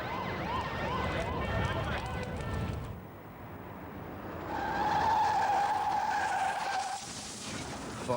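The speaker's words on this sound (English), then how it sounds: "Fog on the motorway, a crash" A car skids and crashes on a fog-bound motorway, a dense roar of engine and tyre noise giving way after a few seconds to a sustained rising tone like a siren or squeal, loud and close throughout.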